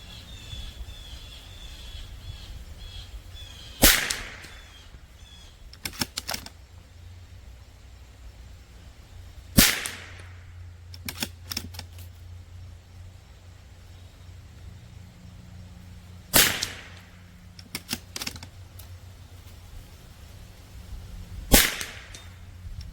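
Sharp rifle shots from a CZ 457 ring out against steel downrange, about four loud distinct cracks spaced several seconds apart, each followed by quieter secondary pings, over a low steady wind rumble.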